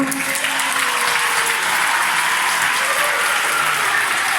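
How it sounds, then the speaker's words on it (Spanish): Loud, steady applause from a group of children honoring volleyball players at a school, a dense continuous clatter of hands with a few young voices calling out underneath. "Les damos un fuerte aplauso."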